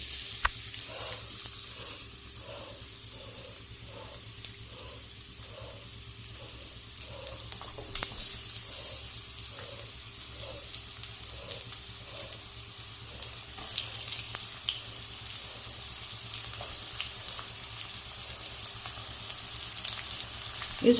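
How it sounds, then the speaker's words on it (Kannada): Chopped onions fry in about three spoons of hot oil for a spinach-mushroom coconut-milk pulao, giving a continuous close sizzle with light crackles and occasional stirring scrapes throughout. "ಎಣ್ಣೆ ಸ್ವಲ್ಪ ಹೀಟ್ ಆದಮೇಲೆ ಇದಕ್ಕೆ ಈರುಳ್ಳಿ ಕೊಚ್ಚಿಟ್ಟದ್ದು"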